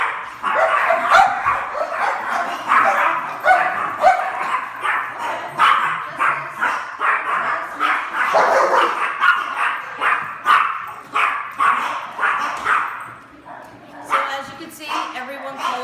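Several dogs at an animal rescue sanctuary bark and yip continuously and loudly at close range, with a few whimpers mixed in, while people talk underneath.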